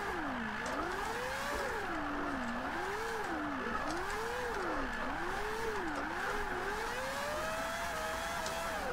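A four-rotor engine in a Mazda MX-5 screams as it revs up and down in Forza 5, with a sharp, rising and falling wail that runs loud and continuous through a drifting run.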